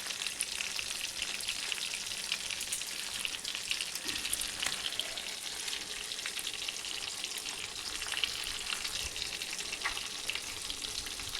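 Stuffed green chillies sizzling in hot oil in a pan, a dense continuous crackle and spatter that stays steady and close throughout, with occasional stirring.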